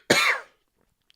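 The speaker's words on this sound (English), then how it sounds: "Sorry, I was just coughing there" A single sharp, close cough, then quiet.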